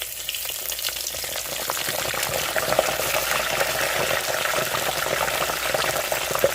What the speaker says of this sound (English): We're going to go ahead and fry this for about 3 minutes. Or until it's golden brown.